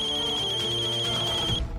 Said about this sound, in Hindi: तभी अभिनव का फोन फिर से बजा